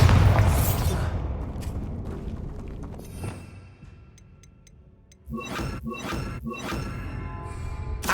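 A Bombarda blasting spell explodes in Hogwarts Legacy, a loud booming crash that decays over a few seconds, followed by a burst of crackling, clattering debris and game effects.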